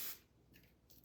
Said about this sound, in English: I kind of use my hand here to kind of catch the hairspray and just kind of put it back on the hair